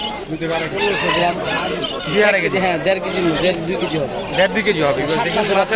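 A Brahma rooster crows amid the crowded din of a bird market, its call mixed into constant loud chatter and other fowl clucking nearby.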